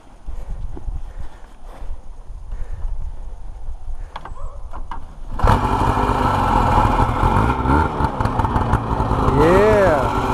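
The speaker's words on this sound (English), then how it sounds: "1971 Ski-Doo 640. She runs good." A 1971 Ski-Doo TNT 640 snowmobile engine is started and runs loudly up close after a quieter stretch of rustling handling, with revving pitch sweeps near the end as the engine runs under the throttle.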